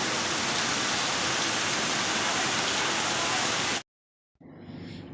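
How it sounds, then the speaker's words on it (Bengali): Steady monsoon rain roars as a dense, even wash of noise, then cuts off abruptly and returns more softly after a brief gap. "বেশ কদিন ধরেই এরকম কন্টিনিউ বৃষ্টি হচ্ছে"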